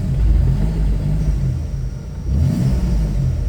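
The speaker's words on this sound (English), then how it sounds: "Just going through the gears." A Nissan M35 Stagea with an all-wheel-drive manual gearbox swap rumbles and revs as it is driven through the gears, a loud, close engine drone that dips briefly before rising again.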